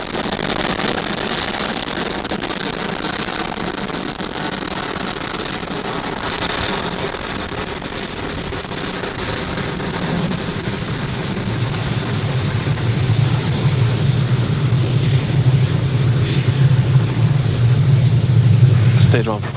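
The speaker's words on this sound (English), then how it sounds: "Ignition and liftoff. Vehicle is pitching downrange." Falcon 9 rocket lifting off on a Starlink launch: a broad, continuous roar that swells and deepens toward the end, with a heavy low rumble building over the final seconds, steady and loud throughout.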